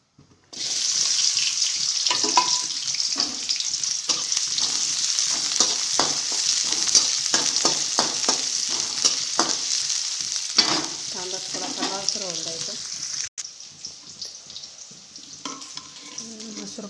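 Sliced onion frying in hot oil for a masoor curry: a loud, constant sizzle close up, with repeated clinks and scrapes of stirring, dropping briefly near the end.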